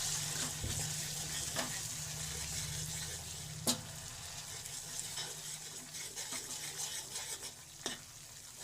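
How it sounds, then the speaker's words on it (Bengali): Garam masala being stirred into a curry frying in a pan: steady sizzling with repeated scraping and clinking strokes of the spoon against the pan, close up, with no talking. "আমি গরম মশলা দেবো দিয়ে নাড়াচাড়া করে দেবো"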